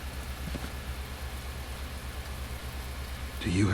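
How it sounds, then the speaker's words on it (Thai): Rain falling outdoors in The Walking Dead: Michonne video game, a soft steady patter over a low rumble, swelling louder just before a brief voice breaks in at the very end. "ฝนตกข้างนอกวะ"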